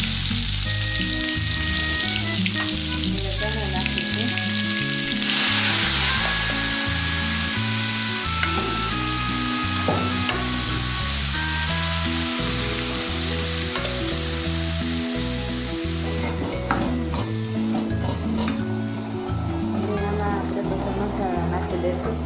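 Cumin seeds sizzle in hot oil for a homestyle desi chana curry, a steady loud fry with stirring scrapes while music plays and a person speaks over it.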